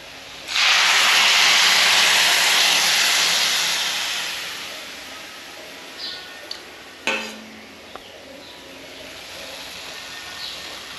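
Cow's-milk buttermilk poured into a hot pan of vegetables for a roti sabzi, bursting into a loud, steady sizzle that slowly fades, followed by a few faint clinks of a utensil against the pan.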